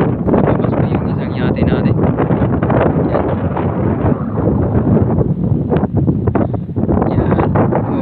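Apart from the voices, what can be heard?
wind blowing at Manila Bay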